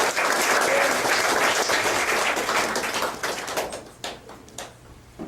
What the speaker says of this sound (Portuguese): Vamos aplaudir em nome de Jesus.